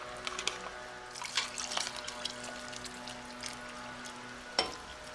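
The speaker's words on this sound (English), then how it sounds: "So we're going to have to add more water." Water is poured into a pot of simmering pink beans, a soft liquid splash and trickle with a few drips and bubbling, fairly quiet and close.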